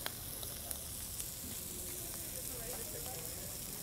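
Shrimp sear in a hot pan at an outdoor market cooking demo, a faint, even hiss of sizzling with scattered small pops, heard quietly and continuously without talk.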